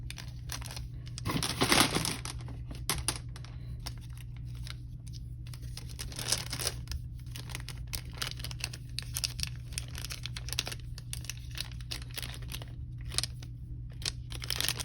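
A small plastic Ziploc bag holding gumballs is handled near the mic, giving steady crinkly rustling and faint clicks, with a louder crunch of plastic early on and continued soft crackling throughout.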